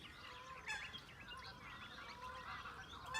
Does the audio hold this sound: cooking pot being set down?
no